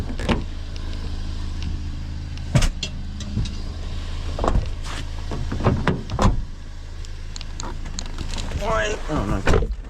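Several sharp thumps and clunks from a car door being pushed shut outdoors at night while trash picking, scattered among rustling and handling noises, with a voice speaking in between.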